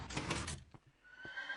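A Minecraft horse whinnies loudly in one drawn-out, wavering call, followed by a couple of soft hoof thuds and a faint lingering tone.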